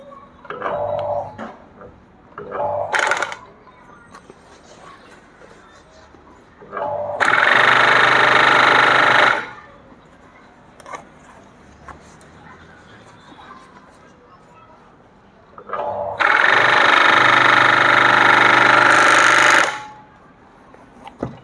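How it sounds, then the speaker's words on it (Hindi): A bag closer sewing machine with a newly installed body runs a stitching trial in two loud, steady bursts of about two to three seconds each, separated by quieter stretches of handling and faint talk. "मैं आपको अब फाइनल ट्रायल करके दिखाता हूँ कि मशीन की सिलाई कैसी है"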